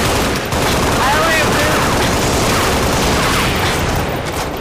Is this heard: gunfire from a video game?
yes